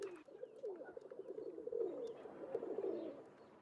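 Pigeons coo softly and repeatedly in railroad station ambience from a Nancy Drew video game, layered gurgling calls rolling continuously at low volume.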